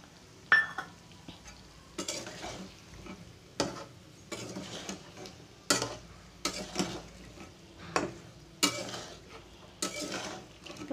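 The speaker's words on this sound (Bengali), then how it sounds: "লঙ্কা পাউডারটা দিয়ে এখন ভালো করে আমি নেড়েচেড়ে মিশিয়ে নেবো একসঙ্গে" A spoon scraping and stirring chilli powder into fried raw mango pickle in a pan, with the gas turned off, giving repeated clinking scrapes at a steady pace, fairly quiet and close.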